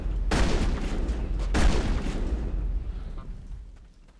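Gunfire aimed at the Thorian in Mass Effect: two heavy, booming bursts a little over a second apart, each trailing off into a rumbling decay, with no voices.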